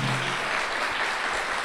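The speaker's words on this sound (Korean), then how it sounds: "박노자 선생님께 다시 한번 큰 박수 부탁드립니다" An audience at a book-talk lecture applauds the guest speaker Park No-ja, with dense, steady clapping that fills the whole moment with no talk over it.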